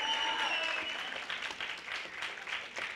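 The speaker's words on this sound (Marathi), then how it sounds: "टाळ्या." A church congregation applauding during a sermon, a steady wash of clapping from many hands that holds for a few seconds and slowly thins, heard alone without speech.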